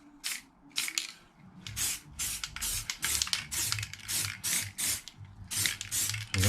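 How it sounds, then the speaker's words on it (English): Repeated short hissing bursts of spray paint being applied to a motorcycle wheel, about a dozen quick passes in an irregular rhythm, close by with a low rumble underneath. "Try and make sure you have got it covered. But like I said, not too much that you're going to get any runs."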